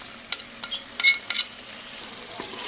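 Chili powder, turmeric, salt and mustard paste frying in oil in a pan make a soft, low sizzle, with a few quick spoon scrapes and taps early on.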